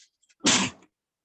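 A single sharp, close sneeze bursts out suddenly and fades within half a second, preceded by a faint intake of breath in otherwise quiet surroundings.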